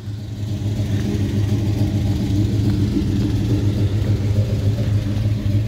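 A 1957 Chevy Bel-Air with power brakes and power steering gives a steady, deep, close engine rumble as it pulls away, loud and continuous with no talking.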